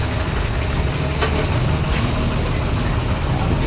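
Bus and truck engines idle in a traffic jam in Kaida, Sundargarh, giving a steady low rumble with a faint hum, close and continuous, with no talking.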